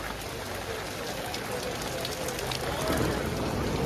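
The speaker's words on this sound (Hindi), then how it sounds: "देखिए क्या बारिश हो रहा है" Steady rain pattering down at a market in Kharagpur, a dense continuous hiss that swells slightly toward the end, with no clear voices.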